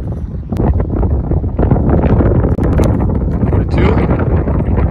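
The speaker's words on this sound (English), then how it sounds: "Right to left wind." Strong 20-25 mph crosswind buffeting the microphone on a football field, a loud continuous rumbling roar with gusty rustling throughout, a faint voice in the background.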